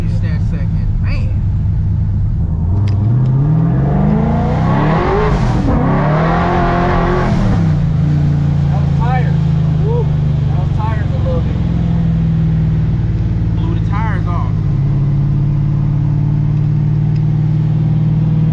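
A 1969 Dodge Charger engine pulls hard through second gear, its low roar climbing in pitch, then settling into a steady loud drone with brief rising revs, close by and dominant throughout.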